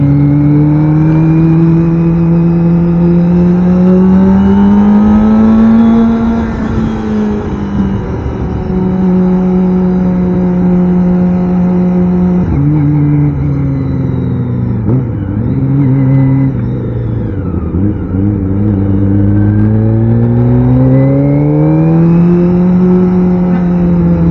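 Kawasaki Ninja ZX25R motorcycle with auto blipper, its engine loud and close, climbing in pitch through revs, dropping with gear shifts and downshifts, then rising again in a continuous high-pitched wail.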